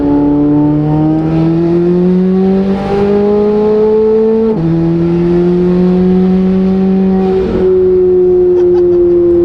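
A twin-turbo Chevrolet Corvette C8 Z06 accelerates at part throttle, its loud, smooth engine tone climbing steadily through two upshifts, each marked by a brief drop in pitch before it rises again.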